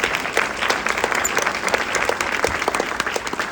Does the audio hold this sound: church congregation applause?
yes